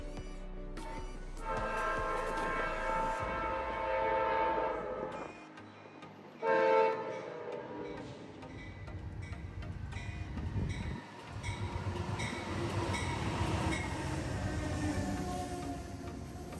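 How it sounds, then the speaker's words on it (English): An Amtrak Carolinian diesel passenger train led by a P42DC locomotive rumbles into a station with horn blasts over the engine drone, then steady rolling and clanking wheels as it slows alongside. "Amtrak Carolinian number 80 pulls in, led by P42DC number 10."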